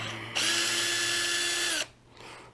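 A power drill spins out screws from an X-MAXX RC truck's bumper and skid plate, one steady whirring run of about a second and a half, close and loud, then stopping.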